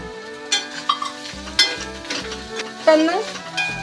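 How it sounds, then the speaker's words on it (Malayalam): A spatula stirs a bitter gourd stir-fry with curry leaves in a pan, giving a string of sharp scrapes and knocks over a soft sizzle, with steady background music. "നല്ലവണ്ണം ഇളക്കി കൊടുക്കാം നമുക്ക് ഈ പാകത്തിന് കറിവേപ്പില ഇട്ട്"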